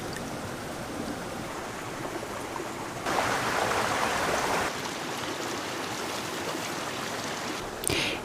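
A mountain river flows right beside a campground, a steady rushing stream that swells louder for a stretch in the middle, heard close and alone.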